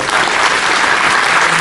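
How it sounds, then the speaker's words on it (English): A keynote audience at the 2019 Learnapalooza event breaks into loud, dense applause, a continuous full-room roar of clapping that holds steady from start to finish. "Big round of applause for Michael."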